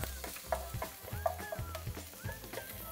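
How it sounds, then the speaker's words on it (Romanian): White part of onion and garlic frying in a little oil for fried rice with vegetables, a steady sizzle under repeated scraping stirs, close and moderately loud. "am să pun în partea asta un pic de ulei și am să pun partea albă de la ceapă împreună cu usturoiul"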